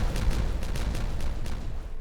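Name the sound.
dynamite explosion in Timberborn video game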